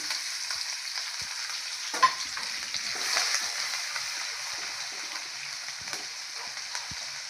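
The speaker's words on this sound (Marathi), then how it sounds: "तेल गरम झाल्यानंतर आपण टाकणार आहे अद्रक लसूणची मिरचीची चटणी" Ginger, garlic and green chili paste sizzles in hot oil with cumin, a steady crackling frying hiss throughout with a few sharper pops and light stirring scrapes.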